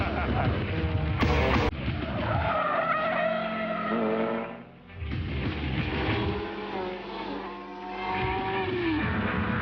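Race cars at the 1994 James Hardie 12 Hour endurance race, engines screaming at high revs with tires skidding and squealing, loud and close, dropping briefly before surging again while a commentator talks over it.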